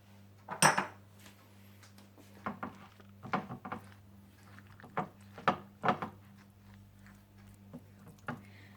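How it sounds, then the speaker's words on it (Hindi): A utensil mixes chicken with egg white, oil, white pepper powder and salt in a bowl, giving sparse, faint clinks and taps against the dish over a low steady hum. "तेल, वाइट पेपर पाउडर और नमक डालकर अच्छी तरह से मिला लें।"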